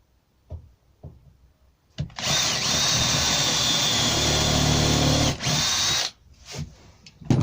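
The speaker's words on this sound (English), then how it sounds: "generous countersink, opening up the hole a bit" A power drill countersinks a screw hole in an oak door frame, running at a loud steady whine for about four seconds, with a few short bursts and knocks before and after.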